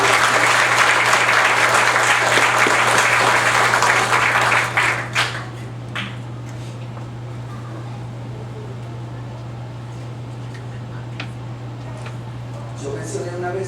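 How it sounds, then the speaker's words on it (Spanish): A church congregation gives a loud burst of applause for about five seconds, then it fades to scattered faint claps over a steady hum of fans or air conditioning. "debemos dar una ofrenda de aplauso al Dios de la iglesia."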